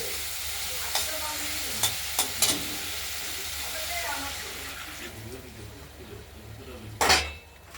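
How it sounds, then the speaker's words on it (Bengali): Spice paste for a rohu fish curry with potato and tomato sizzles steadily in hot oil in a pan, with sharp clattering knocks from a stirring spoon against the metal and a louder scrape near the end. "এবার মশলাটা কষে গেছে, তেল বেরিয়ে গেছে।"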